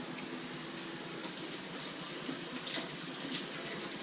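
Steady running water from a tap, warming up for pizza dough, a continuous hiss and splash at moderate volume with no talking.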